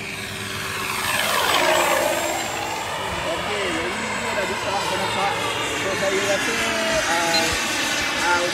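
An RC P-47 Razorback 1500mm model warplane fitted with an ESS-AIR V2.0 engine sound unit gives a steady, close, droning engine roar with wavering pitch that swells early and then holds, with voices in the background.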